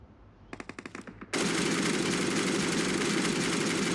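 A short burst of rapid gunfire at a vehicle in the video game BGMI/PUBG, then a loud, continuous roar of sustained automatic fire, close and harsh, with no voices.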